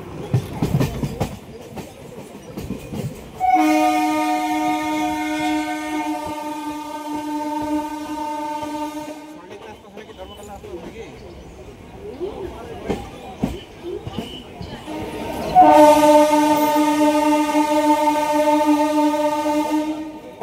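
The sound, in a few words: train arriving at station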